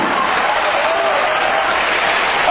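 A church congregation applauds during a sermon, a dense, steady wash of clapping and crowd noise that holds at an even loudness throughout.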